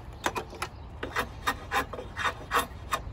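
A drawknife shaves wood clamped in a shaving horse, making a series of quick rasping strokes in an uneven rhythm, close and fairly quiet.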